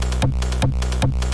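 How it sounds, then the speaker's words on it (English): Pitched-up psytrance kick drum programmed in FL Studio, four punchy hits in a steady rhythm about 0.4 seconds apart, loud and dry with nothing else playing. "Now we get to the kick"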